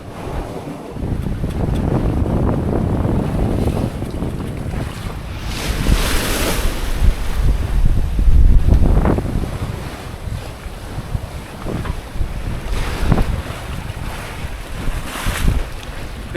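A 33 ft sailboat crossing the open Pacific: strong wind buffets the microphone while waves surge and wash against the hull in swelling, rolling bursts, continuous and loud.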